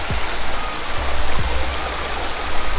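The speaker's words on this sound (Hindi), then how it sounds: "तो अब यहाँ सुप्रीति नदी क्रॉस कर रही है" A river stream flows and rushes near Tiru waterfall, giving a loud, continuous broadband wash of water close by with a few faint splashes.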